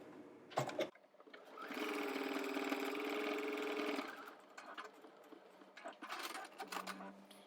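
A sewing machine stitches binding onto a quilted octagon, running steadily for about two seconds in a close, even burst, with a few handling clicks and shuffles before and after.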